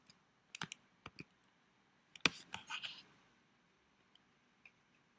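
Scattered computer keyboard keystrokes while building an SQL query: isolated clicks and a short quick burst of typing, quiet and close, with long pauses between.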